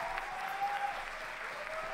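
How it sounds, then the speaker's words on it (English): Applause from a crowd at an outdoor Indigenous Liberation Day festival, a steady, fairly faint wash of clapping held at an even level throughout, with a thin tonal hum running underneath. "A warm applause for Max and Chautuleo"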